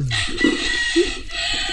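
A rooster crows briefly, close by, with clucking and rustling background noise around it.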